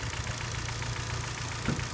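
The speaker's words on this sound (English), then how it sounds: "nice clean engine, running quite smoothly" A 2011 Kia Forte 5 idles smoothly with the hood open, giving a steady low engine hum and faint rhythmic ticking, close and constant, with no talking.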